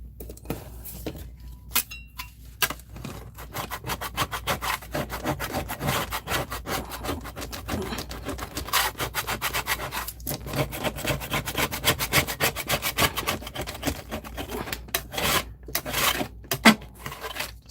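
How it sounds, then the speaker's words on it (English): Steady rough scrubbing and rasping strokes as wet paint is scrubbed off a craft mat, continuous, close and fairly loud, with brief pauses between bursts of rubbing. "I just want to get any wet paint off of my mat"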